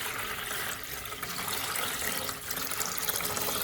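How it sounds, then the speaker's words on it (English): Boiled salted water pours steadily into a basin for a foot soak, a continuous close splashing rush with no pauses and no voices. "Now I pour about 3 liters of the boiled water into the basin."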